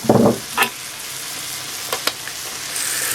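Garlic and onion frying in a Trangia camping stove pan, with a brief burst of sizzling and stirring up front and then a steady, quiet hiss carrying on with a few faint clinks.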